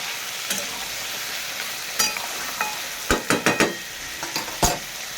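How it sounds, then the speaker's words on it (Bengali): Goat meat frying in a pan and stirred with a utensil, a steady sizzle under a few sharp scrapes and clinks against the pan, close up with no voices. "স্বাদ মতন লবণ দিয়ে দেবো এভাবে নেড়ে নেবো"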